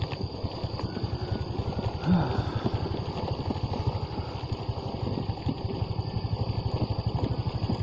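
A motorcycle travels slowly over a damaged road, its engine giving a steady, close, pulsing thrum throughout with little change in level.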